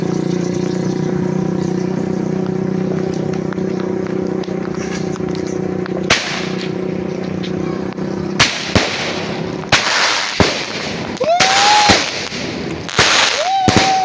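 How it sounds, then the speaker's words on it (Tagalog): New Year's Eve fireworks go off in a series of sharp, loud bangs, some rising whistles among them, over a steady background rumble of engine noise. "Fireworks."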